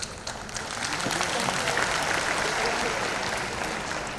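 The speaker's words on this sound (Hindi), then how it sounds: "बोलने के पहले ताली बजा दी आप सबने" An audience at an International Yoga Day event in Maharashtra claps steadily for a few seconds, a dense, even patter of many hands with some voices mixed in.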